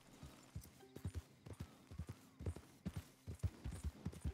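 Horse hooves clip-clop in a steady walking rhythm inside Red Dead Redemption 2, fairly close and distinct, with faint ambient game sound and no talk.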